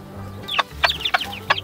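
Chickens and roosters, including American breeds, clucking close by in a few short bursts over a low background hum.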